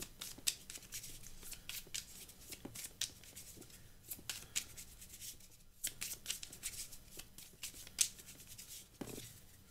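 Magic: The Gathering cards are shuffled by hand in a quiet room: crisp riffling bursts and card slaps in irregular clusters, close and fairly soft, with brief pauses between rounds.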